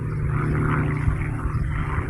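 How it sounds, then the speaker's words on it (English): An airplane flies overhead, a steady, fairly distant engine drone with a low rumbling hum that holds constant throughout, with no talking. "Here's an airplane."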